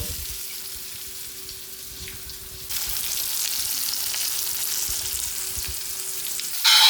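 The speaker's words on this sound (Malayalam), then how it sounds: "രണ്ട് ട്രിപ്പിനുണ്ട് വറക്കാൻ ഇപ്പോൾ ചെറിയൊരു കണ വാങ്ങിയതാണ്" Small cut squid pieces frying in hot oil, a steady crackling sizzle close by that grows louder and brighter partway through, with faint background hum and no talk.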